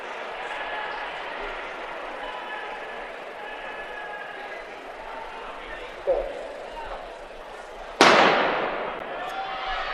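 Starting gun fired for a women's 200m prelim heat at an indoor track championship, a sharp crack ringing through the arena after a smaller earlier pop, with an announcer talking over crowd murmur.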